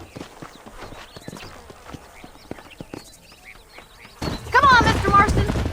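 Horse hooves clip-clopping in Red Dead Redemption, quick rhythmic hoofbeats under spoken dialogue, then a louder burst of galloping and horse noise near the end.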